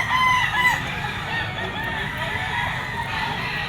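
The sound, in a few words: rooster crowing and clucking at pet market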